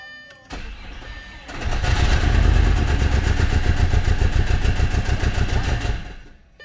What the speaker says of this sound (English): that's a rod knock like no tomorrow